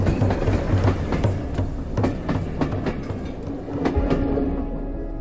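The Rovos Rail luxury train rolls along the Coppertrail with a loud, close rumble and rhythmic clickety-clack of wheels over rail joints, with occasional sharper knocks throughout.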